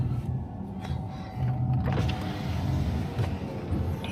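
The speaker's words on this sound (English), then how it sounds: "I've turned around and I'm slowly cruising up" A 4WD LandCruiser climbs slowly uphill on a bush track after turning around, its engine a steady low rumble close by with faint mechanical whirs and bumps over the terrain.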